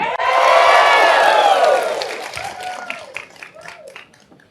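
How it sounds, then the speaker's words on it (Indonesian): A crowd at a political campaign dialogue event in Gorontalo bursts into loud clapping, cheering and whoops, which peak early and then thin out into scattered claps and voices. "Tepuk tangan dulu."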